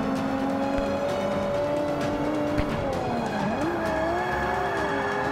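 A car drifts in Forza Motorsport 5, a steady engine roar with sliding, squealing tire tones that bend and waver in pitch throughout.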